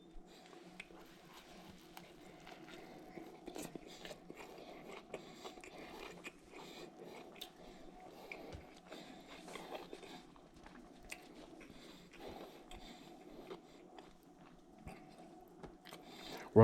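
Close, wet biting and chewing of a tri tip burger with onion, sauce and tomato, a steady run of crunchy mouthfuls and smacking with no talk.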